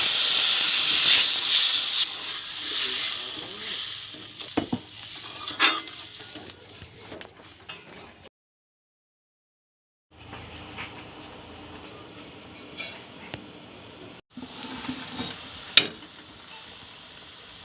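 Water boils hard in a raw-banana kofta curry gravy: a steady bright hiss and sizzle with faint bubbling. It drops out briefly to silence, then resumes with a few sharp clinks from the pot.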